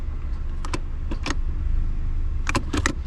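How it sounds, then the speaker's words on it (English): The automatic gear shifter of a 2004–2008 Honda Fit is moved through reverse, neutral and drive over an idling engine hum, producing several sharp clicks in small clusters, close and distinct, with no talking. "First I have to put in the reverse, neutral, drive, and then the last part"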